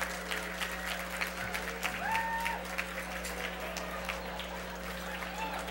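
Audience applause at a Milken Institute conference speech, a steady wash of clapping from a large room with a faint whistle rising in the middle, continuous for several seconds without talking.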